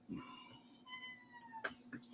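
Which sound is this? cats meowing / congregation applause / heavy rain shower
cats meowing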